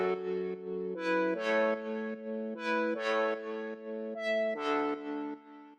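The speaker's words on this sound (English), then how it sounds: "the main one is the Future Booty lead" A Future Booty future-bass synth lead plays alone in a bright, harmonically rich melodic phrase of sustained chord-like notes, about six stabs with gliding pitch changes, loud and close.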